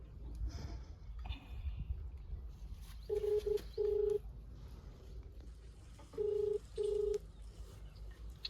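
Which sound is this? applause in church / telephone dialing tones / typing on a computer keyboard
telephone dialing tones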